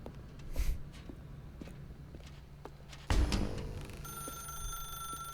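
A telephone in the video game The Stanley Parable starts ringing near the end, a thin electronic tone following quiet footsteps and a louder thud, all faint and without talking.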